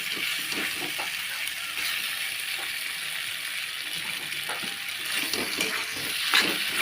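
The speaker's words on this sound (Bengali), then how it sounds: "হালকাভাবে নাড়াচাড়া করে নেব। পাঁচ মিনিট নাড়াচাড়া করে নেব, ভালোভাবে পাস্তাটা ভাজা ভাজা করে নেব।" Pasta fries in a pan while being stirred, a steady sizzle under repeated scraping clicks of a utensil against the pan at close range.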